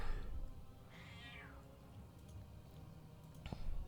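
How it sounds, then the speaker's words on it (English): A pet cat meows in the background, one drawn-out rising-and-falling call near the start and a short sharp sound toward the end, faint over steady low room noise. "I also have a thief kitty meowing in the background"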